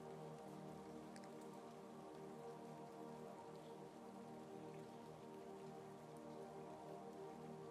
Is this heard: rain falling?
yes